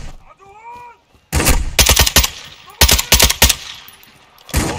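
Automatic gunfire in Call of Duty Warzone 2.0 during a DMZ run: loud, close bursts of rapid shots in two main volleys with a short burst at the end, after a brief quiet stretch with faint radio-like tones.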